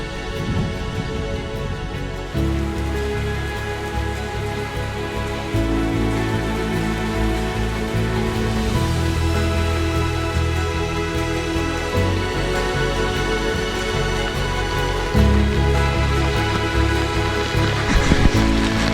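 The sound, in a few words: rain falling while sitting in a canoe on a river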